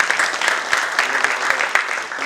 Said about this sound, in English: let's give her a resounding applause